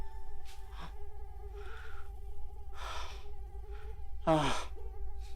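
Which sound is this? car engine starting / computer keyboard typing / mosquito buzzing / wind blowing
mosquito buzzing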